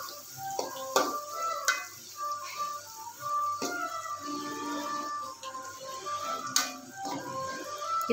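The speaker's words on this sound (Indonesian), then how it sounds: "Kita goreng hingga terinya matang." Small anchovies (teri) frying in oil that was already used for peanuts in a home kitchen, a steady soft sizzle broken by occasional sharp clinks and scrapes of a utensil against the pan, with no talking.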